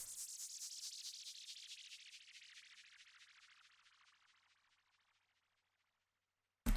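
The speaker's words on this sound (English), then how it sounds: "threw in the same crash, and then threw on this phaser and auto pan. And it's going to give this really cool, like, warping sound to the chorus" A crash cymbal processed with phaser and auto-pan swells into a bright, swirling, warping wash that sweeps down and fades over about five seconds, then a sudden loud burst cuts in at the end.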